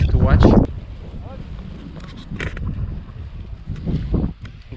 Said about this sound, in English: The wind is going crazy here